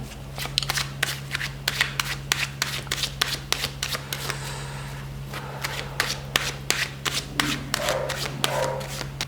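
Tarot cards shuffled by hand for a yes-or-no reading, a rapid run of crisp riffling flicks close up, steady rhythm with brief pauses, over a faint constant hum.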